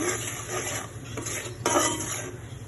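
A spoon stirring and frying a turmeric, salt and onion paste spice mix in a pan, soft continuous scraping with a faint sizzle and one brighter clink near the middle.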